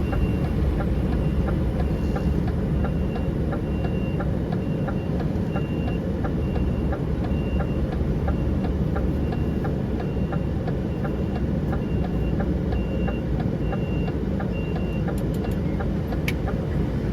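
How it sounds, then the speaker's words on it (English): A reversing truck's warning beeper sounds in a steady, evenly spaced series of tones over loud engine rumble, continuing through the whole stretch with no talk. "It's about 300 yards that I have to reverse."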